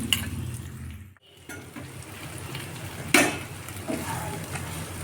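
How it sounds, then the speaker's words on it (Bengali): Ginger paste stirred into a pan of fried potatoes and vegetable stems, with a low sizzle, a brief dip, then scraping and metal clinks from the spoon against the pan, close by. "এর মধ্যে এক চামচ পরিমাণ আদা বাটা দিয়ে দিচ্ছি"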